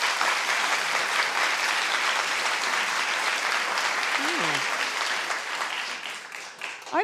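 A large audience claps loudly and continuously for several seconds, a dense wash of applause that thins toward the end while a voice briefly cuts in.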